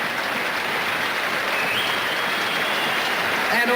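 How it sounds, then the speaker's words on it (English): A boxing arena crowd keeps applauding after a world title fight, a dense, steady roar of clapping heard from a distance, with faint commentary mixed in toward the end. "The applause still coming for Jeff Fenech."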